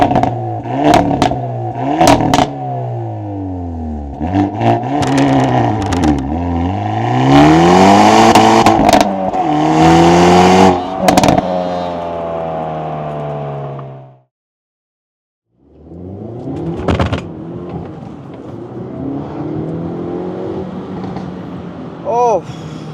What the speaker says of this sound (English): the best part about the car is easily how the exhaust sounds